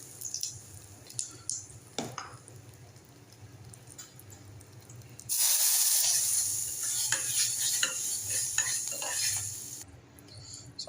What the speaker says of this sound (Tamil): கடுகு கடுகு நல்லா புரிஞ்சு வரப்ப ரெண்டு பட்டை மிளகா ஆட் பண்ணிக்கலாம்